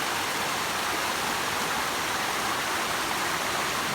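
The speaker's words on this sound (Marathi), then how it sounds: "हा बघा इथे थोडा पाण्याचा हे दिसतोय प्रवाह तो आहे तिथे धबधबा" A forest waterfall in Konkan, Chiplun: a constant broadband roar of falling water fills the scene, loud and steady without pauses or voices.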